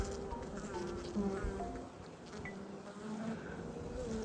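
Honey bees buzz close up on a hive frame during a beekeeping inspection for laying workers, forming a dense, continuous drone with individual wingbeats rising and falling.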